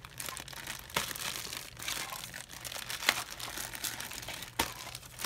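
Plastic packaging is pulled open by hand, producing close crinkling and crackling with a few sharper snaps as the plastic gives way.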